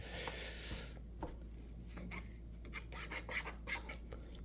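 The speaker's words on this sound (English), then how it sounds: "So these are the strips here I'm going to be cutting my chunks from, just like that." A kitchen knife, in need of sharpening, slices beef strips into stew chunks on a board, giving quiet scraping and tapping cuts in an irregular rhythm, close by over a low steady hum, with no speech.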